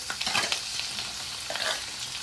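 Finely chopped onions sizzle and crackle in a hot pan while a spoon stirs them, a busy, close, continuous frying sound with small bursts of louder spatter.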